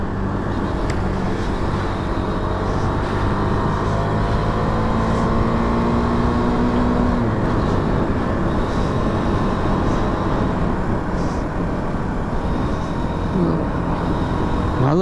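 A motorbike rides along a mountain road beside a river, its engine droning steadily under continuous road and wind noise, with a brief rising tone partway through.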